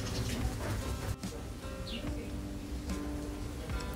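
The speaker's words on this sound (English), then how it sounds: "Those birds are quite loud." Loud bird calls, likely pigeons or doves cooing, heard outdoors in a continuous busy chorus that fills the whole stretch, with a higher chirp standing out near the middle.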